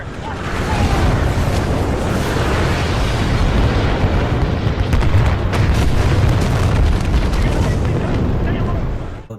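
Booming explosions and heavy artillery-like blasts roll continuously through a large-scale battle between Militia and IMC forces on Typhon in the video game Titanfall 2, loud and dense throughout with no pauses.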